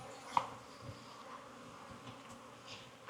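Honey bees hum in an opened hive in a Florida apiary, a soft continuous buzz close by with faint clicks of handling and a louder knock at the very end.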